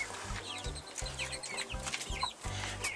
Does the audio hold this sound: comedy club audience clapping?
no